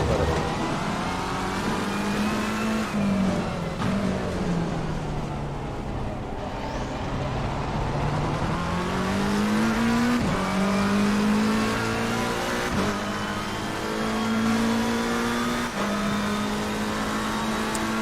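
A McLaren race car in Assetto Corsa Competizione on a wet track, its engine droning steadily and rising and falling through gear changes over a long stretch, loud and close, with no talk over it.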